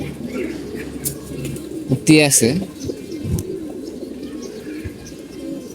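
Young pigeons, about two years old, coo softly at home amid low rumbling murmurs, with a brief louder burst of calls midway; someone speaks briefly over them.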